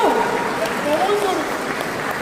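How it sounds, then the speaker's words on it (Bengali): A crowd at a photography festival award ceremony claps for a junior award winner, steady applause that carries on under a speaking voice for the whole moment. "একটু জোরে হাততালি হবে নাকি ওর জন্য?"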